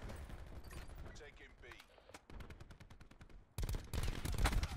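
Gunshots from Call of Duty: Black Ops 4 crack in quick repeated bursts, building to a loud closing volley, while a player talks over the action.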